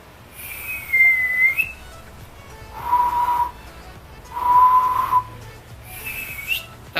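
Someone attempting to whistle produces four separate clear tones in short bursts, two higher and two lower, each lasting under a second with gaps of silence between them.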